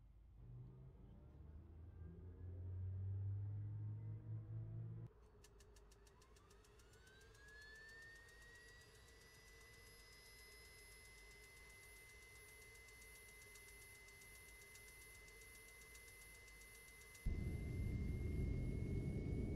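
An aircraft engine in Microsoft Flight Simulator X spools up to a steady whine with a rising tone over a low hum, holding evenly before a louder rumbling roar breaks in near the end.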